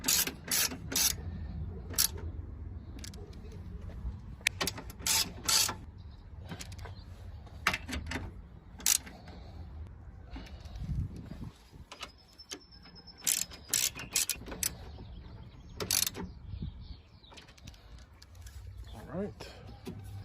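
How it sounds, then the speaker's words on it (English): A socket ratchet tightens a radiator support bolt on a Mercedes-Benz E320 W210, giving bursts of sharp, close clicking strokes spread irregularly across the clip, with quiet handling noise and occasional voice in between. "I'm going to tighten it with the socket."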